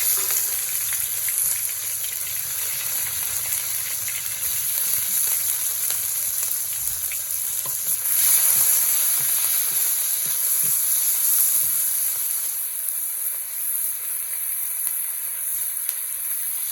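Cumin, chili, ginger paste and tomato sizzle together in hot mustard oil, a steady close-up frying hiss with faint stirring clicks, continuous and fairly loud with no voices.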